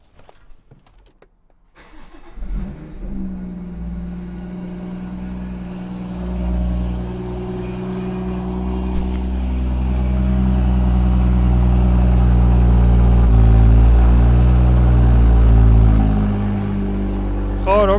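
BMW M240i with factory M Performance exhaust on a cold start: a short quiet rattle, then the engine cranks and catches, followed by a loud, deep, steady rumble that swells into a sustained high idle.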